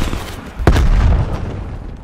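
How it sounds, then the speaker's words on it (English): A single loud, close frag grenade blast in Call of Duty Black Ops Cold War, a sudden booming crack followed by a rumbling low tail that slowly fades. "Throwing frag!"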